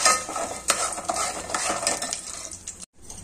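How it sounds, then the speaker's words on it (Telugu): Peanuts and curry leaves frying in hot oil for poha upma, a close, busy sizzle with rapid crackles and the clatter of a spoon against the pan, cutting off abruptly near the end. "just fry the oil"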